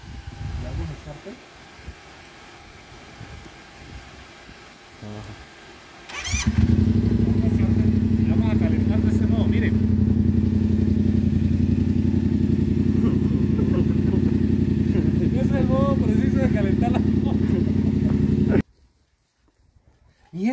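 A Yamaha MT-07 motorcycle engine starts after some quiet talk, then idles loudly and steadily while warming up with a throaty rumble for several seconds before cutting off.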